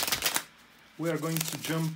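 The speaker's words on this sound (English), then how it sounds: "bear with me a second, guys, to shuffle the tarot cards." Tarot cards are shuffled in a brief, crisp, close flurry of riffling at the start, then a person begins speaking.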